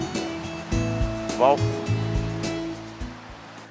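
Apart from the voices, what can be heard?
ocean waves at a beach in Alibaug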